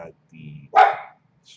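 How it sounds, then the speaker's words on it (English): A dog gives one short, fairly close bark, preceded by a brief low whine or grumble, with a faint extra sound at the end. "Dog wants breakfast."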